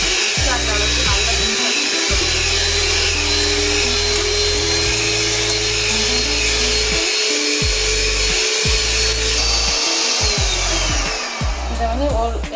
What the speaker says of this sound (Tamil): இப்போது சுகர், பட்டர் அண்ட் ஆயிலை வந்து பீட் பண்ணிட்டேன்